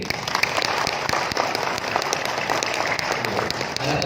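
Audience at an education ministry gathering clapping together in a group cheer clap, a dense, continuous patter of many hands with sharper individual claps poking through.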